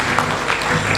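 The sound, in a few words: applause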